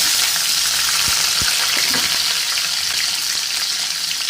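Onions frying in hot oil with mustard and fenugreek seeds for a coconut-milk fish curry, a steady bright sizzle with a few sharp pops and stirring clicks.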